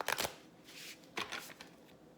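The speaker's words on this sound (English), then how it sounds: "So quick shuffle." A quick, quiet shuffle of a deck of tarot cards: a few soft riffling flicks and slides close by, with nothing else heard.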